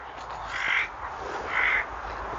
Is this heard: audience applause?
no